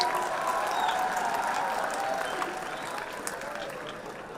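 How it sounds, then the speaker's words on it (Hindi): Audience applause at an international film festival event in Delhi, a dense, sustained wash of many hands clapping that fills the room and tapers slightly toward the end, with no speech over it. "एक बार जोरदार तालियां"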